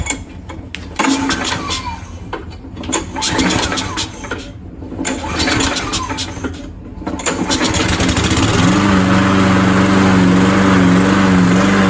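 Lawn mower engine, primed with starting fluid, catching after a rope pull: sputtering cranking gives way to a steady, loud running drone up close, with no talk.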